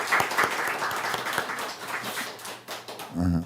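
A church congregation gives a burst of applause during a Sunday service marking the church's anniversary, with steady clapping filling the clip before a voice briefly rises at the end.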